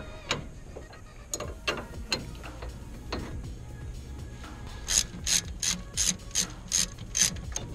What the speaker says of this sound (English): Let's go ahead and remove the compression spring tool out the way and the ratchet strap.